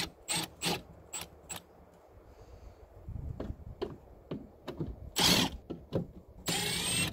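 Ratchet clicks and mechanical rubbing as Torx T25 screws are loosened on the air box of a 2007–2013 GMC Sierra 1500, heard as a series of short, close, sharp bursts with quiet pauses between them and no talking.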